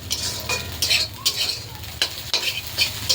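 Scrambled egg sizzles in a wok while a spatula stirs it in quick, rhythmic scraping strokes, about eight sharp clatters over a constant frying hiss.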